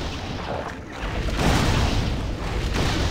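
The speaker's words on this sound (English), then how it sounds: "that thing's blocking my cannon fire" Cannon fire in the Torchlight 2 video game rumbles as heavy booming blasts, a dense low roar that swells and fades over a few seconds, with no talk.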